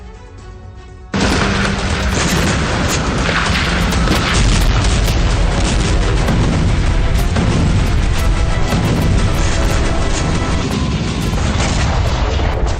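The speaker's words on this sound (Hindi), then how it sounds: "जैसे ही रूसी टुकड़ी आगे बढ़ती है, उसके करीब जोरदार धमाका किया जाता है।" A loud blast goes off close to advancing Russian troops in a Kursk combat zone, a sudden heavy boom after a quieter second, followed by sustained loud rumbling and crackling bursts that continue without a break.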